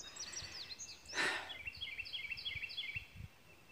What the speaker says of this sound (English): Can you hear those birds singing?